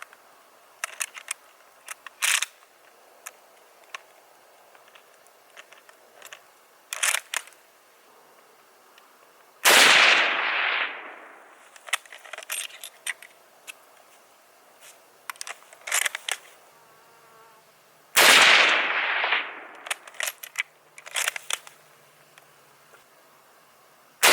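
Two loud, sharp gunshots from an 8mm Mauser rifle firing S&B ammunition at a block wall about 300 yards away, each followed by a long fading echo, with small clicks and handling noise between them.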